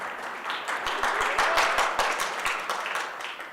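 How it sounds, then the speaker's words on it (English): An audience at a talk on sign making breaks into applause, a steady, fairly dense wash of clapping that holds for a few seconds at moderate level with no voices over it. "Whoa, what an applause."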